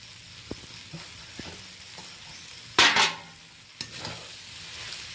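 Coriander leaves stirred into a jaggery mixture in a pan: scattered light spoon taps, then a loud burst of scraping and sizzling midway and another sharp scrape later, close and without talk.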